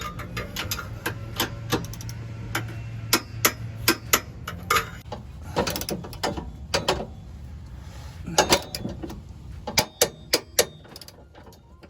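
A torque wrench tightens the bolts of a CURT tow hitch on a Subaru Crosstrek, giving sharp ratcheting clicks in bursts and single snaps against low shop background, close and crisp.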